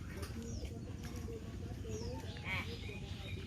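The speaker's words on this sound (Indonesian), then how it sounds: "Burung dara." Pigeons cooing softly at a family campsite, low murmuring coos mixed with chirps from other birds under a steady outdoor background.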